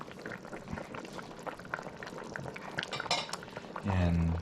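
Catfish curry with okra and green mango bubbling in a pot, a steady close simmer with light utensil clinks throughout, ending in a louder burst of sound.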